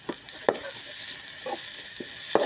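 Ginger, garlic and pepper hit a pan of frying jackfruit with a few sharp clatters and steady soft sizzling, close and moderately quiet, with no one talking.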